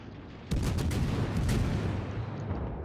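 Naval gunfire from the American light cruiser Atlanta loosing armor-piercing shells in World of Warships, a sudden loud burst of booming salvos that rumbles on steadily behind it.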